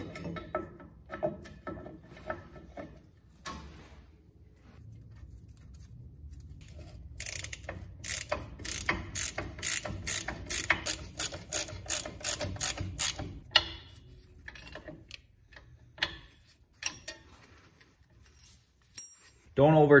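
A ratchet wrench clicks rapidly and steadily as a brake line is snugged onto a new wheel cylinder on a Ford Ranger, close-up metallic pawl ticks with scattered taps around them.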